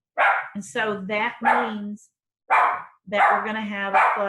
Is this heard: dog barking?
yes